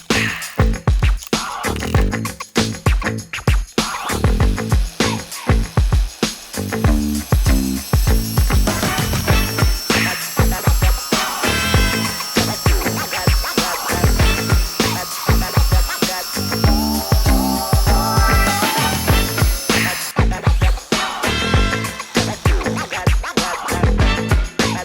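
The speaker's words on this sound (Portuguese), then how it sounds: "Eu vou utilizar essa esmerilhadeira, a bateria aqui, com essa serra de madeira, né? Para cortar madeira." A battery angle grinder fitted with a toothed wood saw blade cuts through wood, a loud, steady, harsh whine with choppy cutting bursts running almost nonstop and very close.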